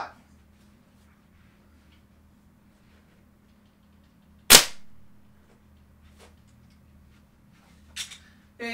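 A single sharp crack from a Crosman 1377c multi-pump air pistol fired at a 25-foot target, close and loud against a quiet background, followed later by a few faint clicks.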